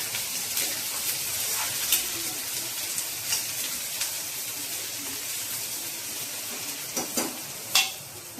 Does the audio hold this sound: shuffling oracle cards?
no